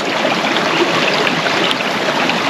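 A forest creek that has washed out its banks and toppled spruce trees flows in a steady, dense rush of water, continuous and fairly loud, with no voices.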